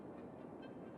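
Train traffic in the city-building game Cities Skylines, a steady, dense rumble of rolling rail cars that stays loud and even for about a second with no voices.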